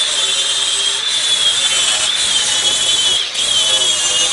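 Hand sanding of rough casting edges on a starter motor mount during an LS left-hand starter conversion, a close, loud continuous abrasive rasp with brief rhythmic strokes and no talking.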